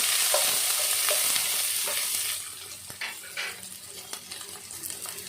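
Onion and crushed garlic fry in oil in a pan for a pomfret fish curry, a loud bright sizzle that eases as a utensil stirs with scraping taps, settling into a quieter crackle.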